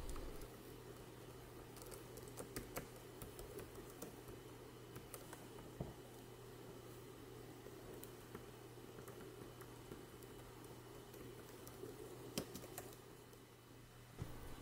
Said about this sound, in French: Là, on va écouter le bruit du clavier.